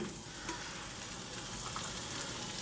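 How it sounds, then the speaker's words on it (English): Canned pre-cooked green beans sizzle and crackle steadily in a hot frying pan while being stirred, a dense close frying hiss with faint scraping throughout. "Stir that around. Green beans are already pre-cooked in the can."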